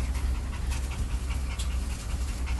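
A stocky puppy panting, rapid steady breaths close up and fairly loud, continuous with no talk over it.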